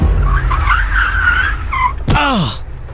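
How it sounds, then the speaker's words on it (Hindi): A car brakes hard and skids in a horror-story sound effect: a sharp burst followed by a descending tire squeal lasting about a second, loud, over a steady rumbling engine bed. "तभी गाड़ी में जोर का ब्रेक लगा"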